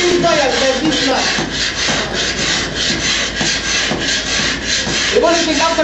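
Steady abrasive rubbing and rasping as alabaster stone is polished, a continuous gritty scraping close by with rhythmic strokes.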